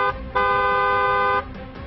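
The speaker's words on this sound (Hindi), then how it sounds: "दूसरों को सावधान करने के लिए हॉर्न बजाइए" A car horn gives a short toot, then a loud, steady honk held for about a second, followed by a couple of brief taps.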